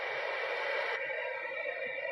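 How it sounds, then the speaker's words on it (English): A sound machine runs in the background, giving a steady, even hiss with no breaks or rhythm, constant and moderately faint throughout. "So you guys can hear my sound machine in the background."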